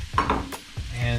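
Mushrooms and onions sautéing in canola oil in a pan, a brief soft sizzle with a few spoon scrapes and clinks, heard close.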